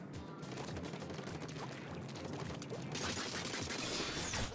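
Splatoon 3 ink weapon fire, a continuous spray of rapid shots and splattering bursts at moderate level, swelling louder and brighter near the end, with no talking.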